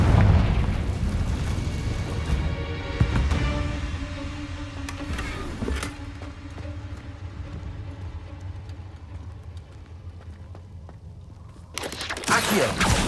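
Spell explosions burst out during a Hogwarts Legacy fight, a Confringo blast among them: loud booming hits at the start with a heavy rumbling bed, another sharp burst near the end.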